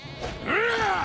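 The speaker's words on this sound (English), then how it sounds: "Why do I hear sheep?" Sheep bleat in The Elder Scrolls IV: Oblivion, a single wavering bleat that swells and holds near the end, fairly close and clear, with faint game ambience before it.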